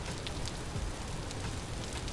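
Steady rain falls in the survival game Vintage Story, an even, close hiss of drops hitting surfaces with faint splashy ticks throughout, no voices.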